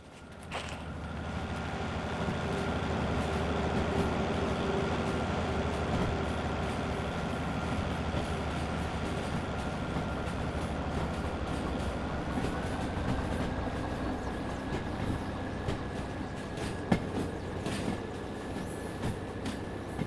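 A long freight train running in the train simulator game Derail Valley, a continuous heavy rumble with wheel clatter and a steady whining tone, holding a constant, close level throughout.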